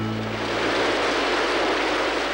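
Steady rainfall on an old French television programme, a dense, even hiss of falling drops that stays constant throughout, with a faint voice briefly audible at the very start.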